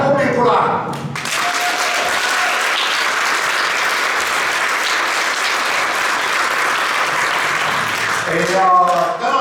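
Sustained, loud applause from a concert audience fills the hall at a 15th-anniversary folk dance concert in Kiikla, with brief talk just before it starts and again as it fades.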